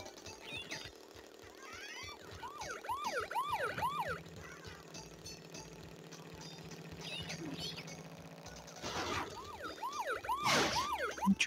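Police siren wailing in the Crash Bandicoot Warped video game, a sweeping electronic wail that comes and goes at moderate distance over a low engine drone, faint overall with a louder burst near the end.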